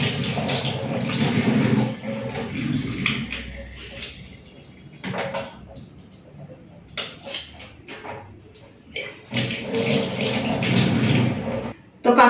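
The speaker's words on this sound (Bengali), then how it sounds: "চলুন প্রথমে ধুয়ে সিদ্ধ করতে বসিয়ে দিই।" Raw green tamarind pods being rinsed in water for a rohu fish sour curry, with splashing and sloshing in bursts, brief pauses and a few clinks of a pot or bowl, close by and fairly loud.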